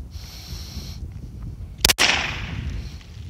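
A single loud, sharp gunshot cracks out from an ALP pistol during test firing, standing out abruptly against steady outdoor background noise. It is followed by a brief decaying echo, and no one speaks.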